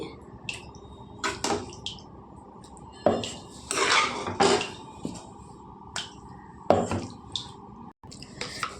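Cooled tomato and fenugreek-leaf chutney is scooped from a pan into a mixer jar, giving a series of close, moderately loud scraping clinks and wet thuds in irregular bursts, with no talking.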